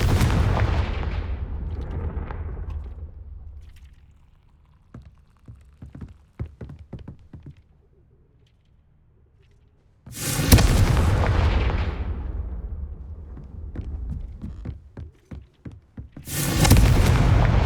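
Confringo spell blasts in Hogwarts Legacy. Three loud, booming explosions each burst in and decay over a few seconds, with scattered crackles and smaller pops between them. No talking.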